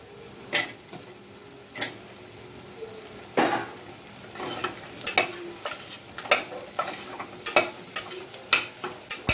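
Drumstick pods are stirred in a frying pan, giving a soft sizzle punctuated by sharp scraping and clinking strokes of the spoon in an irregular rhythm, close by.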